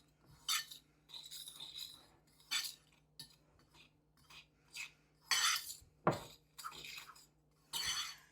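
Dry ingredients with cinnamon and nutmeg for an apple crisp are stirred in a bowl, a series of close scraping and clinking strokes in short irregular bursts with quiet gaps between.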